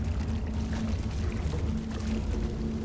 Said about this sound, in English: Now we gotta spray this with water.